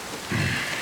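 Steady rain in Lost Judgment, a dense hissing downpour that swells briefly with a low rumble partway through.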